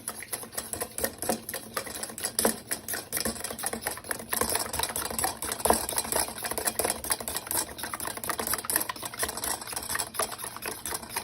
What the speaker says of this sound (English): so we'll scramble them using a whisk and just try to get it pretty clear